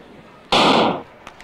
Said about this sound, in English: So we hear the double gun there.